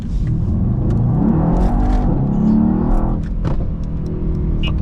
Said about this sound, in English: we're going to be doing a morning cruise POV drive in my E63S